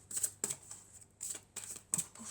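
Oracle cards from a deck being handled and drawn, with several short, soft papery flicks and slides in a quick, uneven rhythm. The sound is close and quiet, with no voice over it.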